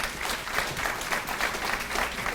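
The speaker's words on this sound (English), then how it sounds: "give these guys a round of applause" A sports banquet audience claps for student athletes in a brief burst of steady, dense applause, moderately loud and continuous throughout, with no speech over it.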